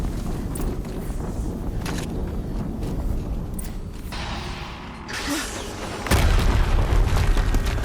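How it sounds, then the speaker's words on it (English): A heavy boom from the video game Horizon Zero Dawn rolls out over mechanical game ambience, with a sharper blast near the end swelling into a loud sustained rumble. "explosion."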